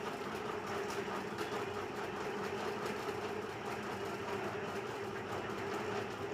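A sewing machine stitches a double-cup blouse, running in a continuous steady whir with a fast rhythmic clatter, close and alone without talk.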